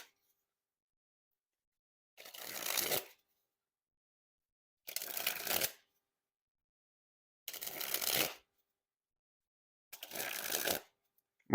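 Theory11 Mandarin Monarch playing cards being sprung from hand to hand, four quick rippling bursts of riffling card flutter spaced about every two to three seconds, close and crisp against silence.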